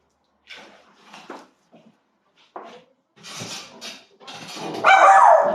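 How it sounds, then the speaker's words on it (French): A small female dog barks and whimpers unhappily in short, irregular bursts, growing louder and more insistent toward the end. "ça c'est ma petite chienne qui est pas contente"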